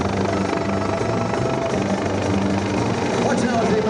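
A Coast Guard helicopter with a Fenestron tail rotor hovering during an air show rescue demonstration, giving a loud, continuous rotor and turbine drone with steady low pulsing and no breaks.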